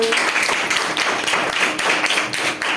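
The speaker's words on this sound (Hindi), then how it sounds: "उनके तालियां से स्वागत करें।" Audience applause welcoming an honoured student at a school felicitation ceremony, a steady dense patter of many hands clapping throughout without a break, fairly loud and fairly close.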